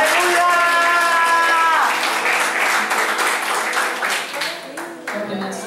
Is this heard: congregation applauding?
yes